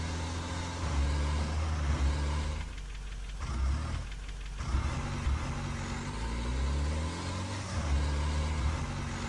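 A lifted Mini off-roader drives in Garry's Mod, its engine a steady, gritty rumble that rises and falls in pitch as it climbs and shifts, with a couple of brief dips in the drone.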